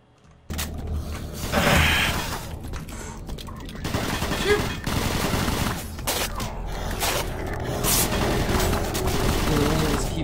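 Gunfire in Doom 3 BFG Edition rattles out in dense, continuous volleys, loud and sustained for about ten seconds, mixed with mechanical game effects and a voice talking over it.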